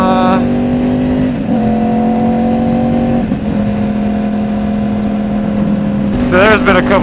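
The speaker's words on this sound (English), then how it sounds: "Should we do a little clutchless shifting? Let's do it one-handed." A motorcycle engine drones loudly and steadily up close while shifting without the clutch, riding one-handed. Its tone steps down and back up between gears, with a brief rising rev near the end.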